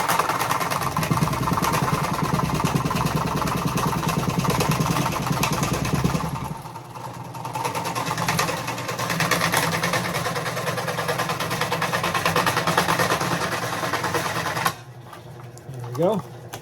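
A Dremel rotary tool cuts into a Glock 19 holster with a loud, steady buzzing whine that drops to a lower grinding tone partway through, then cuts out near the end, followed by a brief rising whir.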